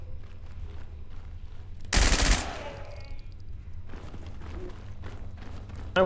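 Gunfire in the SCP 5K video game, a single loud sharp blast standing out over a low rumbling background, followed by faint scattered clicks and rattles.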